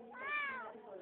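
A cat meows once, a single drawn-out rising and falling call, close and fairly loud, with a person's voice faintly around it.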